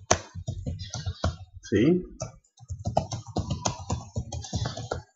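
Quick taps on a computer keyboard while typing characters into a hex editor, close and crisp, mixed with someone talking over the keystrokes.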